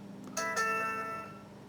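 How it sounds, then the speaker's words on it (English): A phone chimes with a short notification ding, a bright ringing tone that starts sharply and then decays over about a second, faint against a quiet room. "My phone just dinged."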